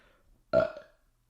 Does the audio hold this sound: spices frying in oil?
no